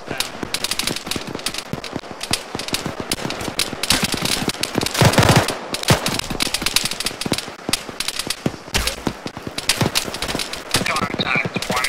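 A .50 cal machine gun in the Arma video game hammers out rapid, loud bursts of sharp cracks during a US Army Rangers milsim session, with short gaps between volleys and heavy overlapping gunfire.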